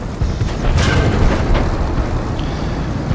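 An IS-3 tank cannon fires in a video game: a loud, deep boom swells into a sustained rumbling roar that lingers for a few seconds, with faint mechanical noise beneath.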